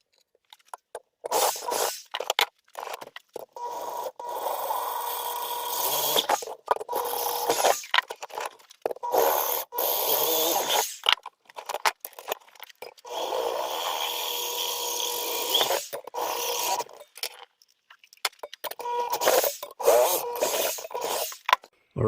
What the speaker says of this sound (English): What I'm going to do right now is I'm going to make these holes a little bit bigger.